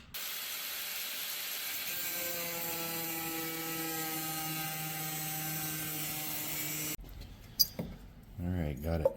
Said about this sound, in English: Just cut out with the angle grinder